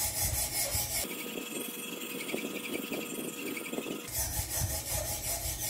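A ceramic knife blade is scrubbed back and forth across 80-micron diamond film on a sharpening jig, giving a steady rasping, filing-like scrape close up with a rhythmic stroke pattern and no talking.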